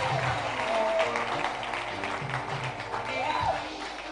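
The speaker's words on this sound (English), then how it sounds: "please applaud for her" An audience claps and cheers for a prize winner at a live road show event, steady sustained applause with a few voices calling out over it.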